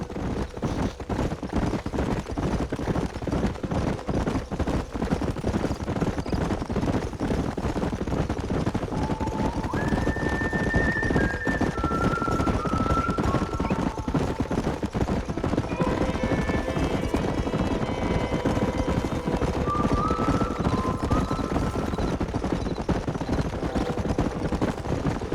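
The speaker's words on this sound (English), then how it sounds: "There's the horses!" Horses in the Red Dead Redemption video game, with steady hoof clatter throughout and a few high whinnies and neighs rising midway, over continuous game ambience and movement noise.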